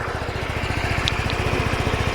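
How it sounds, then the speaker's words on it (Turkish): A Motolux CEO 110 motorcycle engine idles steadily nearby, a low, muffled exhaust thrumming in an even rapid pulse with no voices. "boğuk bir egzoz yani gürültü vermeyen bir egzoz"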